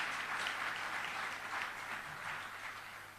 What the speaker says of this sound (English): Give him a round of applause once more,